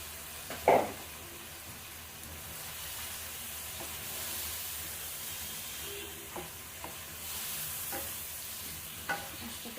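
Fish sautéing in hot oil in a pan gives a soft, steady sizzle, with a few sharp utensil clinks near the start and scattered light scrapes and taps as it is stirred.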